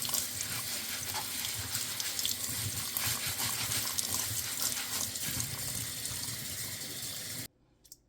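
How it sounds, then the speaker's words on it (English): Water runs steadily from a kitchen sink tap while rice is washed, a continuous close splashing rush that stops abruptly near the end. "So I'm gonna go wash my rice because that's what you do with rice. You wash it."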